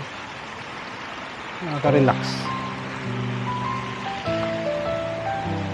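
Water flows steadily outdoors as a continuous hiss and wash under a nearby voice, with a person talking over it throughout.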